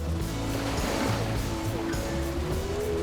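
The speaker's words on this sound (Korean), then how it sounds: "이 넘실거리는 파도 소리가 너무 좋네요." Ocean waves on the West Sea shore at Jebudo, a broad continuous wash of surf, fairly close, with a low tonal hum running underneath.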